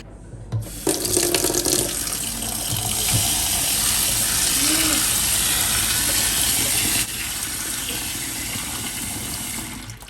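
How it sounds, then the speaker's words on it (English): Beans being washed vigorously in water before cooking for a Ghanaian bean stew: a loud, steady rush of running tap water with rubbing and swishing, close up. "wash it vigorously about 2 times before the cooking process begins"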